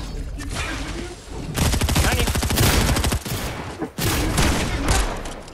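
An auto shotgun fires a rapid burst in Fortnite, giving loud, close, evenly spaced blasts, followed by another burst after a short break.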